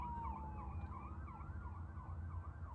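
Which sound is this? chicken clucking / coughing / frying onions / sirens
sirens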